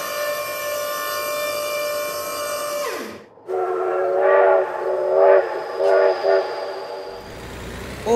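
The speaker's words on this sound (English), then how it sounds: "Oh my god, train!" A train horn in the BeamNG.drive video game, a loud sustained multi-tone blast that bends downward and cuts off, followed by a few more pulsing horn blasts and a fainter trailing tone, close and dominant.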